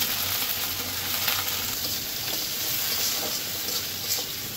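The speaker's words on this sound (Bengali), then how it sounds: "পেঁয়াজের সাথে মাছটা একটু ভেজে দেবো।" Dried loitta shutki fish fries with onions in a pan, giving a steady, even sizzle that runs unbroken at close range with a slight watery crackle.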